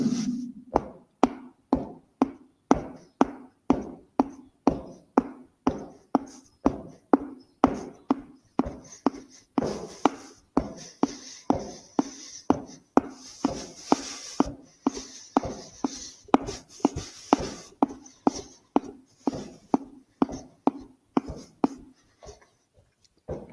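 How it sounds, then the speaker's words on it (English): Rhythmic teeth clacking, about two clicks per second, dozens of sharp, close, dry taps repeating steadily and alone with no talk. "Clack your teeth."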